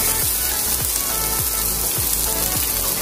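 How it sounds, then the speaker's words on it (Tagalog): Onion and garlic sautéing in a little oil in a pan for sopas: a loud, continuous sizzle with a soft knock about every half second. No voices. "Next, ilagay natin yung onion and garlic."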